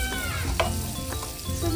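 Surmai fish frying in a pan gives a loud, dense, continuous sizzle with a brief crackle burst partway through. No one speaks.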